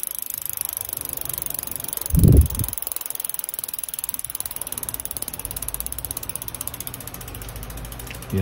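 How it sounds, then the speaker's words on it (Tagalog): Steady rapid clicking of a Mountainpeak Expert 3000 bicycle's rear hub ratchet as the wheel freewheels, close and continuous, with a brief bump partway through. "sound check naman ng hub, kung anong tunog niya."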